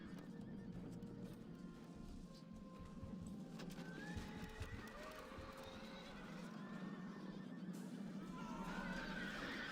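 Cavalry horses neigh and whinny repeatedly over hoofbeats and the steady roar of a battle in the Empire Total War strategy game. The calls are rising tonal whinnies at mid distance, with the din continuous throughout.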